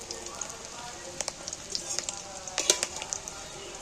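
Fish egg fritters fry in hot oil, a steady crackling sizzle broken by sharp spatters and pops as the pieces are turned over one by one, close and fairly quiet.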